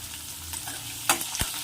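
Sprouted legumes fry in a pan for a home-style dish, a soft low sizzle with a couple of brief sharper stirring scrapes and clicks near the end, no voices.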